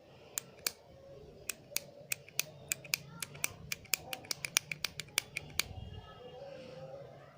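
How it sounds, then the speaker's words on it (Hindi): Sharp, quiet plastic clicks from the pen-style twist button of a lip plumping gloss, about twenty in a quick irregular run, close up in a soft room. "2-3 बार आप क्लिक करोगे तो ये प्रोडक्ट ऊपर आ जाएगा यहाँ पे"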